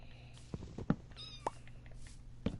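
A white cat in Minecraft Bedrock on PS4 gives a few short, soft meows against quiet game ambience, with a clear rising call near the middle and a fainter one near the end.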